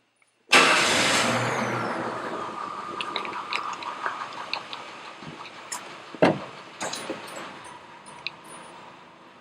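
Cave tour vehicle creeping slowly through a cavern: an engine starts with a loud burst, then idles and rumbles softly with scattered rattles and clunks, no voices.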